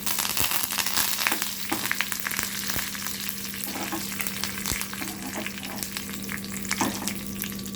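Curry leaves are dropped into hot oil while making a garlic chilli powder, sending up a dense crackling sizzle that stays loud and close, with a few metallic stirring taps and no talk.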